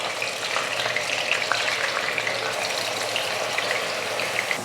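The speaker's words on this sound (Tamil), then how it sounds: "வெங்காயத்தை வதக்கிக்கலாம்" Onion paste frying in hot oil in a kadai with curry leaves, a steady, dense sizzle and crackle running throughout at close range, with no voices.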